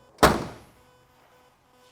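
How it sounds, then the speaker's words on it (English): A 1966 Ford Mustang passenger door swings shut with one solid, close thunk that decays quickly into quiet, with a faint click near the end. "Passenger door closes just like it should."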